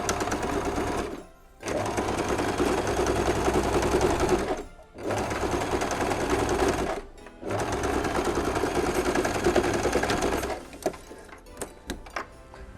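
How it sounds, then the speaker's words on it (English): Sewing machine stitches a double elf stocking in three long steady runs of whirring, each broken by a brief stop for reversing, then a few short taps and clicks at the end. "So I'm going to sew with a reverse at the beginning."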